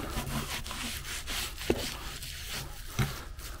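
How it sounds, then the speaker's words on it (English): Glue is wiped off wood with a damp sponge in steady scraping strokes during antique restoration in a workshop, with a couple of sharper knocks partway through. "So before the glue sets, damp sponge, and just wipe it off."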